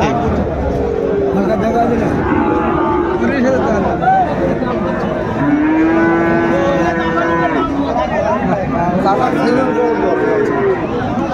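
A Sahiwal breed bull at a busy Dhaka cattle market gives long, drawn-out moos amid other cattle, loud and close, with people talking and bargaining all around.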